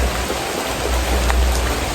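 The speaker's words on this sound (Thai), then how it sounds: "ฝนก็เริ่มแรง" Heavy rain pours down at a rubber plantation in Thailand, a dense, steady hiss of drops with no break and no voices.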